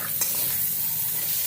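Potato sabzi sautéing in a pan, with a loud, continuous sizzle and one brief scrape of a spoon near the start, close and steady.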